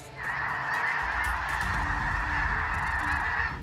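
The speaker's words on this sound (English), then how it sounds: "Just listening to their honks can give you an idea of their numbers as well" A large flock of migrating geese over the Mississippi River honking continuously, overlapping calls forming a loud, constant clamor with no voices.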